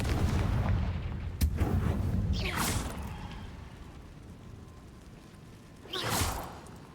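A Confringo fire spell in the Hogwarts Legacy video game blasts off with a sharp crack, then a whooshing burst sweeps through; a second whooshing blast follows near the end over a dense, rumbling game background.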